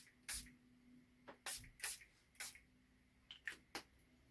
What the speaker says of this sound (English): I'm going to get out my Florida water and spray it around a little bit.